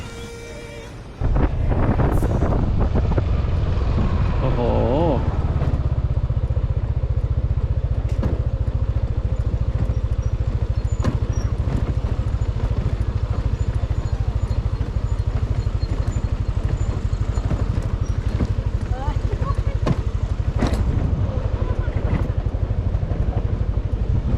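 A motorcycle ridden on a day trip through Saraburi, Thailand, toward a waterfall: a loud, steady low engine drone and wind rush start abruptly and hold unbroken to the end.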